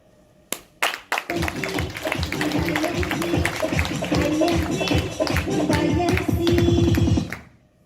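A stand-up comedy audience bursts into dense applause after a few scattered opening claps, a loud, sustained round of many hands that fades out at the end.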